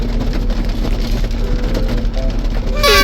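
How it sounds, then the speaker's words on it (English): Steady rain falls outdoors, a dense continuous patter with a low rumble underneath, loud and close, with no voices. "비가 오네요."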